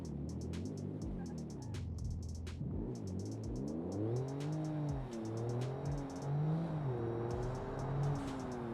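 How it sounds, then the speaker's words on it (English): Car exhaust note from a modded car in BeamNG Drive, a low engine drone rising and falling through several rev swells, fairly quiet and steady with no talk. "let's hear the exhaust sound."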